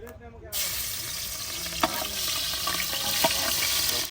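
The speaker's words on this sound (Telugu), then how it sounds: "ఇప్పుడు ఫస్ట్ మిర్చి వేసేస్తున్నాం చూడండి" Green chillies drop into hot oil in a pan for village-style fried rice with sea fish, a sudden loud burst of sizzling that stays steady and close, with a few utensil clicks.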